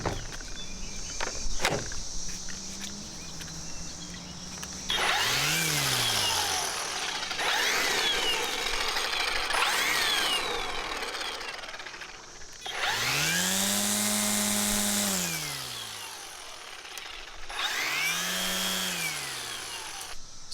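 An EGO PH1400 battery electric string trimmer revs up repeatedly, each burst rising to a loud whine and winding back down, with short quieter gaps between runs and no talking.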